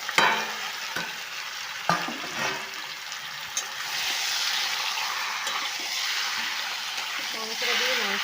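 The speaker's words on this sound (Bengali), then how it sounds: "মাংসটা খুব ভালোভাবে ভেজে নেব।" Meat fries in a pan in a home kitchen, a soft continuous sizzle with occasional scraping stirs and clinks of the utensil against the pan, growing slightly louder toward the end.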